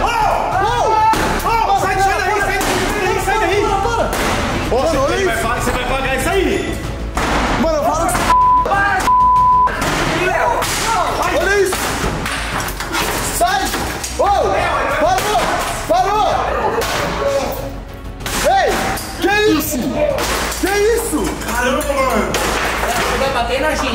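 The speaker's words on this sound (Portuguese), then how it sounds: "Ele tá destruindo a porta!" Loud repeated slams and heavy thuds of a man smashing a house door with an axe, irregular blows mixed with clattering, under frantic shouting voices close by.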